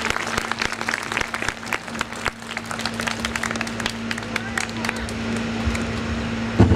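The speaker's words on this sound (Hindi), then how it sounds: "भरपूर तालियों में इस्तकबाल करें।" An audience at a formal speech event in a cantonment breaks into sustained applause, a dense, steady wash of many hands clapping from start to finish against a low, constant hum.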